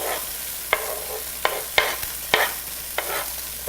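Onions frying in a pan being turned down from high heat, a steady broadband sizzle with several sharp stirring clacks of a utensil against the pan spaced through it, close and alone without any talk.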